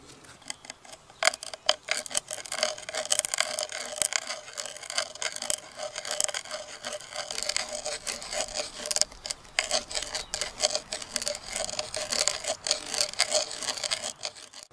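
Dowel holes are bored by hand into wood at a woodland bushcraft camp: close, continuous rasping and scraping strokes with an uneven rhythm and no voices.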